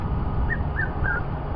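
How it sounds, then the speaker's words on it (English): Red-chested cuckoo calls in the African bush, three short whistled notes in a rising-falling series, clear and moderately distant over a steady low background rumble. "lovely call of the red-chested cuckoo"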